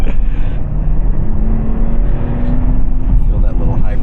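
Mercedes-Benz GLS 450 mild-hybrid engine under way, a low, smooth, subdued hum heard from inside the cabin with steady road noise, while a person talks over it.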